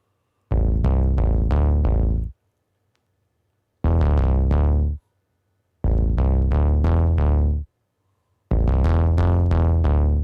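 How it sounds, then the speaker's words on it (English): A deep, buzzy Moog-type synth bass from a Mini V3 plays short repeated phrases of quick notes, stopping between each burst, loud and close with no other sounds. "I added a Moog type bass, and that is from the Mini V3"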